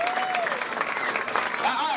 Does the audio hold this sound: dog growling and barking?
no